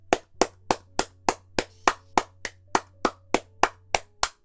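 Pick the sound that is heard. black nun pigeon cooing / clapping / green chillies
clapping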